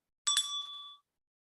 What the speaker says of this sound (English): I'm going to remind you with the bell.